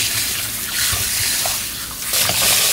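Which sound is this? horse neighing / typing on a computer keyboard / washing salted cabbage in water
washing salted cabbage in water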